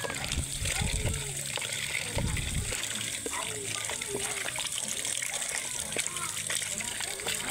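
Water running from a tap and splashing, steady and close, with a couple of louder splashes early on; people talk over it throughout, during chicken preparation.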